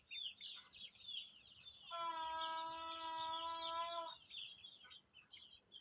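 Chickens feeding on grain at a rural home make soft, high cheeping and clucking calls, broken by one long sustained fowl call in the middle, all fairly faint and close by.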